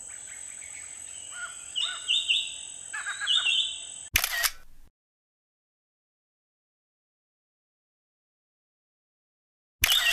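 Loud, clear drongo song of bright whistles and chirps for about four seconds, ending in a sharp click, then near silence before another brief click.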